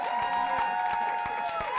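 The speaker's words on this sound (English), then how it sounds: "So give them a round of applause for being here." An audience at a live-streamed event gives guests a round of applause, a steady wash of clapping with a few faint cheers, fairly distant and even throughout.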